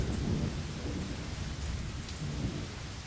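Steady rain at a tiny, deserted train station in the video game Lost Horizon, a dense close hiss of falling drops with a low rumbling undertone throughout.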